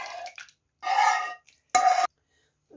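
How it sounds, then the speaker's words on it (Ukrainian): Stewed onion with oil is poured into a semolina and flour mixture in two short, close wet splashing bursts separated by silence, with no talk. "І виливаю сюди оцю цибулю тушену з олією"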